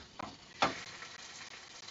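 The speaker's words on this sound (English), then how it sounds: "sizzle sizzle." Frozen raw chicken sizzles faintly in oil in a pan on low heat with sesame seeds, with a couple of brief louder crackles as pieces are stirred or shifted.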